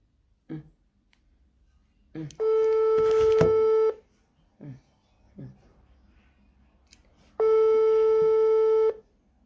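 Telephone line tones while calling back a radio caller: two long steady beeps, each about one and a half seconds, separated by short clicks and quiet gaps, with faint background sounds.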